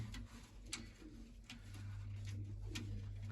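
Soft white-eyed hen pigeon cooing close by, low and murmuring, with faint clicks and a steady low hum underneath.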